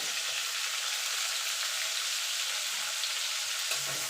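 Tilapia curry with Kashmiri chili powder and turmeric sizzles steadily in a pan, a constant hiss of frying oil with faint scraping stirs close by and no voices.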